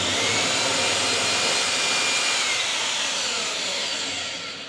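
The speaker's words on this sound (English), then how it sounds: "Now as we drill in, occasionally we're going to want to clear some of those sawdust fibers out of the way" A power drill bores a hole into wood for a Titan post anchor during deck construction, a loud continuous high-pitched whine that holds steady close to the microphone, then eases slightly toward the end.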